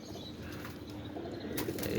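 Pigeons being released to fly give a burst of wing flapping against a noisy outdoor background that gets louder toward the end, with a faint coo or chirp now and then.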